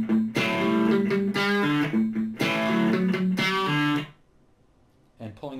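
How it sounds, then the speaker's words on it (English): Distorted electric guitar plays a riff with pull-offs to the open string, several sustained harmonic-rich phrases over about four seconds before a pause and a brief resumed note. "So, pulling off to the open string sounds like this."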